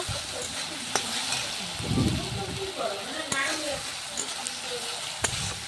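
Ground cumin and chilli powder sautéing in a pan with a splash of water, a steady close sizzle with scraping stirs and a few clinks throughout.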